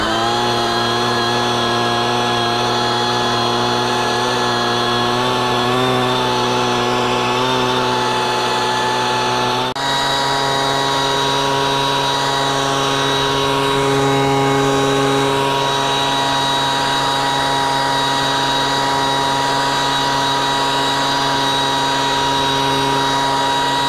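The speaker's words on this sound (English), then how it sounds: "use my blower and see if I can get the rest of that small stuff out" A leaf blower clears small debris and dust out of a hole in an asphalt driveway during a cold-patch repair, giving a loud, steady, close engine whine with a strong tonal hum and a brief pitch shift partway through.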